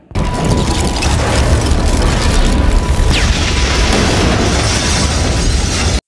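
A nail bomb detonates in an Indonesian action film, producing a loud, sustained roaring blast that fills the whole stretch without letting up.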